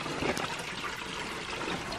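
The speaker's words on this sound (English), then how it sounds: "this is a natural creek" A natural creek trickles past a pump house at Cades Cove, a steady, close, bubbling flow of water with no pauses and no voices.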